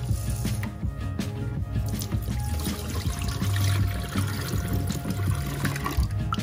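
Rice being washed by hand in water, with sloshing, swishing and squishing as grains are rubbed and stirred, close and continuous for several seconds.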